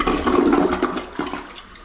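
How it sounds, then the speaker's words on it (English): A toilet flushes loudly nearby with a surging rush of water that swirls and tapers off as the tank refills through its fill valve. "Flush it again."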